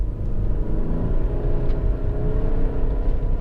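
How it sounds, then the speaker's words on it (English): Lexus RX 400h hybrid SUV with a 3.3-litre V6 and CVT accelerating hard, a steady loud engine bellow and road rumble holding one smooth rising note with no gear changes. "You put your foot down, and you got a nice sort of V6 bellow"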